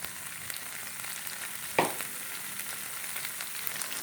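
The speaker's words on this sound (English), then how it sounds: "So just give this a stir like this, mix it thoroughly and let the sotong cook" Squid pieces stir-frying in oyster sauce in a pan: a steady close sizzle runs throughout, broken by one brief scrape of stirring partway through.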